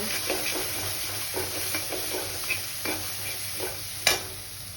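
Ground spices frying and being stirred in a pan for palak paneer, a steady soft sizzle under repeated scraping strokes of a spoon, with one sharper clack near the end; no talking.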